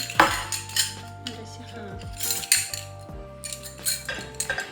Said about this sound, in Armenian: Չափի գդալներ, որովհետև ինձ շատ պետք էին։